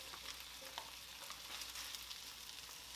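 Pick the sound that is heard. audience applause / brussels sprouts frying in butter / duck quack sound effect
brussels sprouts frying in butter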